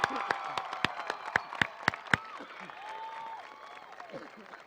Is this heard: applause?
yes